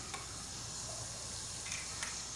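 Water boiling in an idli steamer for rava idli, giving a steady, faint bubbling hiss with soft sizzle-like texture throughout and no voices.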